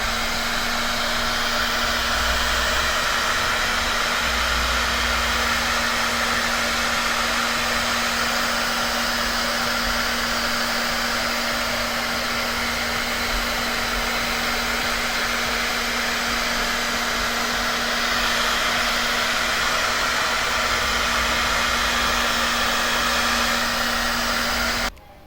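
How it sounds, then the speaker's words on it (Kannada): Steady, continuous roar of a blow torch being swept over resin for a wedding invitation, a broadband hiss with a constant hum running unbroken for the whole stretch, close and loud with no talking. "ಈಗ ನಾನು ಬ್ಲೋ ಟಾರ್ಚಿಂದ ಇಲ್ಲಿ ಮೂವ್ ಮಾಡ್ತಾ ಇದ್ದೀನಿ ನೋಡಿ"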